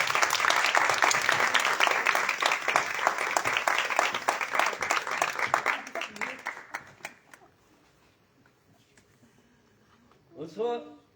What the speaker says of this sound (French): Donc, vous pouvez maintenant applaudir Michel Hervé.